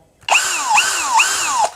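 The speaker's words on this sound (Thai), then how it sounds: "ตัว สว่านมันเองเนี่ยมันจะมีเสียงดังนะครับ" IMAX IMCD-20BL brushless cordless drill running alone, close and loud, for nearly two seconds after a quick spin-up, its steady whine repeatedly dipping and rising in pitch as the load changes.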